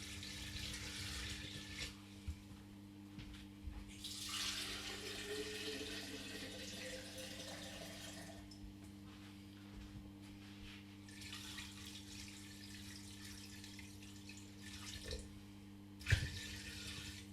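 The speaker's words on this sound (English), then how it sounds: "we're going to add cold water so it just covers all the bone and the carcass" Cold water runs from a tap into a pot over chicken bones and a carcass, a steady low rushing stream with shifting splashes, fairly faint, with no talk.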